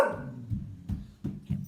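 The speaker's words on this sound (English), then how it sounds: "Oh, there goes my dog." A dog barks indoors, four deep barks in quick uneven succession, close and moderately loud, following a brief vocal sound at the start.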